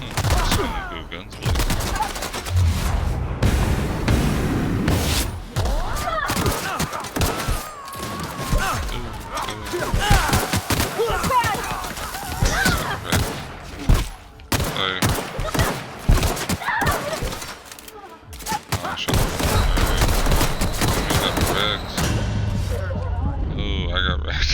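Rapid bursts of gunfire from The Outer Worlds, a sci-fi video game, crackle loudly and almost without pause, with sharp repeated shots layered over game music and effects and a voice speaking in between.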